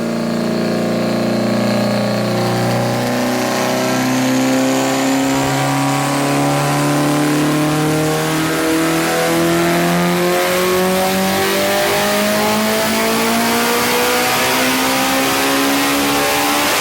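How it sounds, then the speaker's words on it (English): A heavily modified Honda Civic Type R engine screams on a dyno pull toward 9,000 rpm, a loud sustained rev with pitch rising steadily across the run, no talk over it. "Revving to what, 88 or 9? 9? Both 9K."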